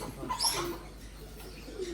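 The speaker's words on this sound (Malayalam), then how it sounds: "ആ പ്രാവുകളെ ഫ്രീ ആയിട്ട് വിട്ട് വളർന്നു" Free-ranging pigeons kept on a small home farm coo softly at close range, over a faint background hum.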